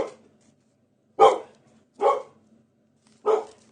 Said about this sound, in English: That's why he's woofing.